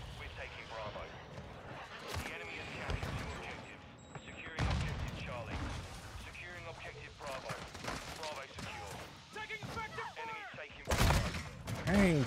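Gunfire in a video game shooter comes as rapid bursts and single loud shots scattered across the stretch, mixed with game effects and a player's talk.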